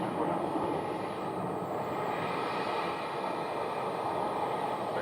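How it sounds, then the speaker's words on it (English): Heavy jet landing at Phoenix airport, a broad, steady roar of engine and rushing air heard from a distance, holding at an even level throughout. "Got a heavy jet landing"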